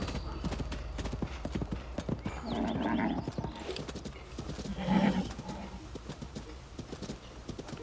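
Horse hoofbeats galloping in the video game Zelda: Tears of the Kingdom, a steady rhythmic clip-clop with a couple of brief whinnies, moderately close and continuous throughout.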